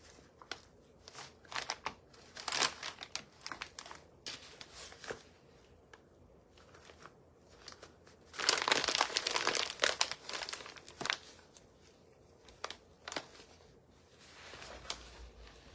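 A paper shipping bag is folded down and crumpled by hand, giving close, intermittent crinkling and rustling with a denser, louder flurry of crackles partway through, alone without voices.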